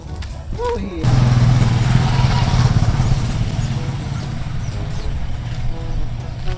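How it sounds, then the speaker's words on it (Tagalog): An engine drones steadily, close, lasting several seconds after a brief voice at the start, consistent with a motorcycle passing nearby. "May motor"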